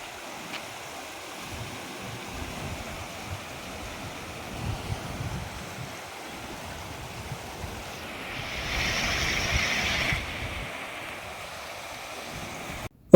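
Flowing water rushes and fills up near temples after heavy inflow, a steady broad wash with wind buffeting the microphone that swells louder for a couple of seconds near the end, with no voices.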